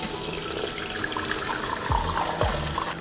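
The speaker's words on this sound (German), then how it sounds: "1200 Milliliter Wasser." Water is poured into a Thermomix mixing bowl, 1200 millilitres over 200 grams of rice, making a steady close splashing rush with a few gurgling surges near the end.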